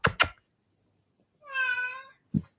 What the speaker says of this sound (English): He's just looking at me and meowing